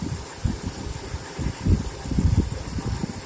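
A 2004 Chrysler Town and Country engine idles close by with an uneven, rumbling low throb and intermittent pulses, heard on its own.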